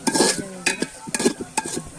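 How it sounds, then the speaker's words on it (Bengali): Bay leaf and fried onions frying in ghee while being stirred in a pan for village-style pulao, soft sizzling under repeated scraping and clinking strokes of a spoon against the pot. "তেজপাতাটা শুরু দিয়ে দিলাম বেরেস্তাটা, এটা একটু ভাজা হয়ে যাবে"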